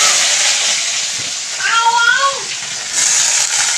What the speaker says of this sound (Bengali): ওইটার পেঁয়াজটা এবার একটু ভেজে নেবো